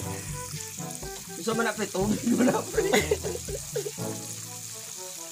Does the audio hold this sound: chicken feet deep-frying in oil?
yes